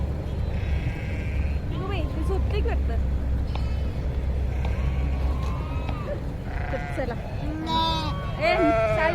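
Goats bleat several times, short wavering calls overlapping one another, with people talking and a low rumble underneath.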